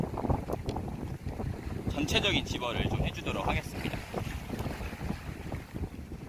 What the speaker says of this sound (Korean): 지금 사실 캐스팅이 힘들 정도로 바람이 불고 있어요.